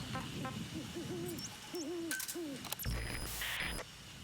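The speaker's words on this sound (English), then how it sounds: "am I actually hearing a bird in game?" Bird hooting in the video game Metal Gear Solid V: The Phantom Pain, a soft owl-like call repeated in several short bursts over a steady ambient bed, with occasional game sound effects.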